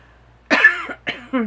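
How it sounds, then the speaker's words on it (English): Three sharp, close coughs in quick succession, the first harsher and longer, following a moment of near silence. "Excuse my coughing."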